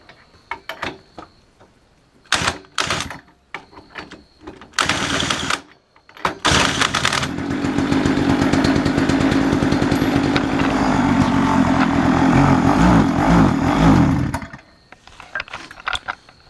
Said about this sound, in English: now we know the engine runs